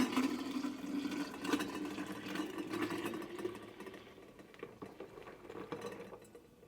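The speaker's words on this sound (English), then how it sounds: "we're just gonna pour the milk in." Milk pours steadily into a jar through a canning funnel with a gurgling, splashing wash that slowly thins and fades toward the end, with no voices.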